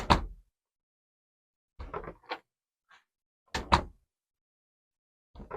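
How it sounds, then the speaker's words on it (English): A room door is shut several times in a quiet listening room with audio gear on a platform table, each closing a distinct thump or latch click, some doubled, separated by silent gaps. "let's close the door"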